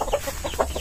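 Close, soft clucking from a few backyard chickens comes in short repeated notes over a brief, noisy moment.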